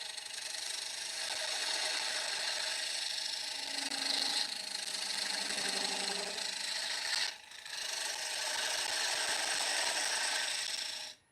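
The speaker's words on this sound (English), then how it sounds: "So that was an Easy Tools carbide tool that we were using to do that." An Easy Tools carbide turning tool cuts a flat-bottomed wooden bowl spinning on a lathe, giving a steady, fairly quiet hiss and scrape that runs continuously, breaks off briefly near the end, then resumes before stopping.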